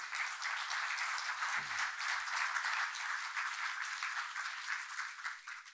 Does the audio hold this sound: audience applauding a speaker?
yes